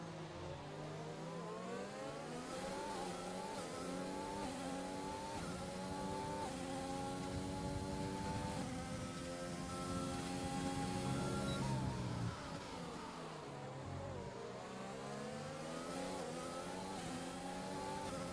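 Racing Point Formula 1 car in an F9 league race at Austria in a video game, engine whining steadily and loud with harmonic pitch climbing and dropping through gear changes, continuous throughout.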